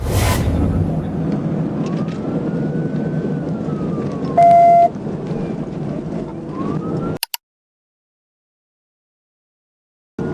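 Police siren wails rise and fall under heavy road and engine roar during a high-speed early-morning pursuit of a Dodge Charger, with a short steady tone midway before the sound abruptly drops to silence.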